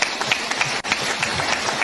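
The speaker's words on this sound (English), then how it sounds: "Yay, look, they're all applauding." A crowd applauding a political speech, with dense, steady clapping that carries on through the whole stretch and drops out briefly partway through.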